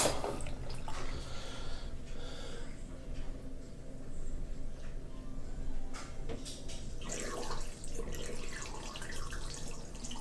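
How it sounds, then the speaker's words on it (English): Aquarium water siphons out through a homemade water-changing hose setup, a soft continuous trickle and gurgle with faint splashes, fairly quiet and close. "So it'll take a minute sometimes, but now the tank is siphoning."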